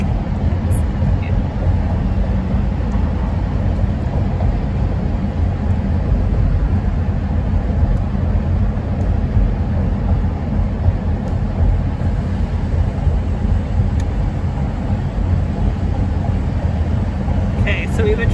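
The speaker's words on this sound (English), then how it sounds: "we've been driving through the tunnel for a minute and a half" A car drives through a long road tunnel, filling the space with a continuous loud, dense roar of engine and road noise that stays steady throughout.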